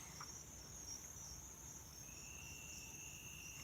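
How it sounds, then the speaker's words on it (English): A few crickets chirp in a continuous high trill. They are faint and steady against a quiet background, with no talking. "just listen to the cricket"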